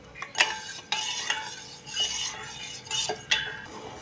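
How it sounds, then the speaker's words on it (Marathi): Spoon stirring a sugar mixture in a pan over a high gas flame while the sugar dissolves, for a sweet semolina shankarpali dough, giving repeated close scraping and clinking strokes with a faint sizzle underneath. "बघा, सतत हलवून गॅसच्या हाय फ्लेमवर ह्यामधली साखर विरघळून ह्या मिश्रणाला चांगली उकळी आलेली आहे."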